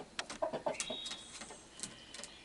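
A roosting hen gives several soft, short clucks with brief pauses between them, faint and close-by in an otherwise quiet coop setting.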